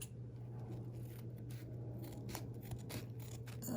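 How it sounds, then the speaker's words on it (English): Scissors snip through a disposable face mask in a quick series of close, crisp cuts over a faint steady hum. "Let me cut it open so you can see."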